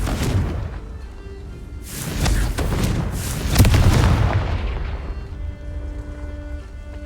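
A Confringo fire spell in Hogwarts Legacy goes off as a series of loud, cracking explosive bursts with deep rumbling booms, then fades into a low, sustained tonal hum. No voices are heard.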